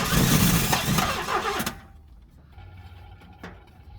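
A 1968 Buick Wildcat 430 V8 that has sat for ten years cranks and then catches with a loud, rough burst of engine noise. It cuts out abruptly after under two seconds, and faint mechanical clicks follow.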